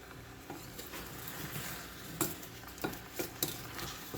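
Shrimp cooking in a pan sizzle quietly while the pan is shaken, producing a series of soft scraping knocks and clinks that grow more frequent and sharper toward the end.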